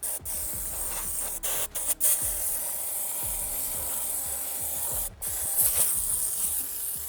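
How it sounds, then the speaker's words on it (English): An air compressor blower gives a strong, hissing blast of compressed air, blowing grime out of a Honda Goldwing motorcycle, continuous with a few brief pauses, loud and close with a rough, rasping edge. "I'm gonna use my blower, my compressor, and just blow it out"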